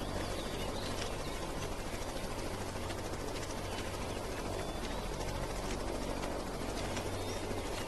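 A helicopter's constant rotor and engine drone fills the whole stretch, a steady broadband roar over a low hum with no pauses, heard alone without talk.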